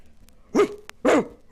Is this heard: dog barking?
yes